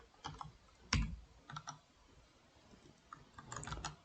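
Keys on a computer keyboard clack in short irregular bursts while text is typed, one sharper tap standing out near the start and a quick flurry of strokes toward the end, close and fairly quiet with no talking.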